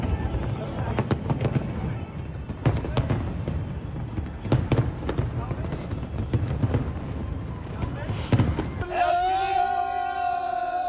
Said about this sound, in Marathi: इकडे सिंगापूरमध्ये सुद्धा फटाक्यांची प्रचंड आतषबाजी बघायला मिळाली.